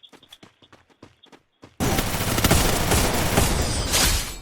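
Rapid automatic gunfire from the Free Fire video game bursts in loudly after a short stretch of faint clicks and taps, continuing as a dense, close volley.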